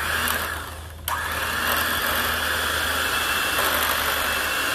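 An electric motor running steadily under load while churning Valvoline SynPower 75W-140 gear oil in a cold pour test, a loud, constant whirring drone with a brief dip in pitch and level before recovering.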